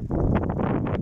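Wind gusting across an open roadside at a cycling time trial, a steady loud buffeting rumble with brief rustling surges, continuous for about a second with no voices.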